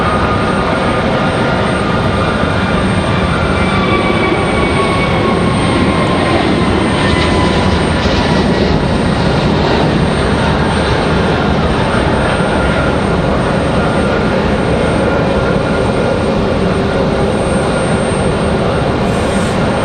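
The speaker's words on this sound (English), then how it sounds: "We've got an A321 on the move, headed out to Charlotte, I believe." An American Airlines Airbus A321 departs Raleigh-Durham International for Charlotte, its jet engines a loud, continuous roar that holds steady throughout without fading, heard alone with no talking.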